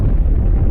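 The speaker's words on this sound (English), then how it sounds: "This is a gamma ray burst, the biggest explosion to rock the universe since the Big Bang." Explosion sound effect standing in for a gamma ray burst: a loud, heavy, rumbling blast dominated by deep low end, sustained through the short moment with no voices.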